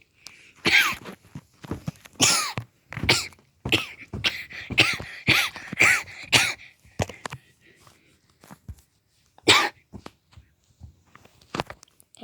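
A voice imitating a toy Squirtle with jet coughs: a rapid run of hoarse, breathy coughs and throaty bursts, close and fairly loud, pausing and then returning in a few scattered coughs.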